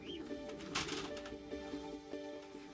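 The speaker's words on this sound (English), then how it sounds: "There aren't many times when the pigeon has played a starring role in science" A pigeon coos softly in a back garden, low gentle calls repeating over a steady background hum, faint and without any speech.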